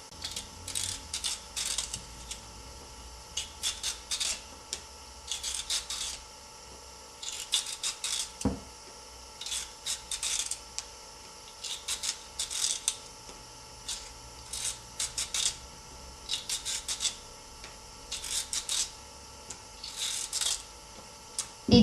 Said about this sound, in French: vous allez peler les carottes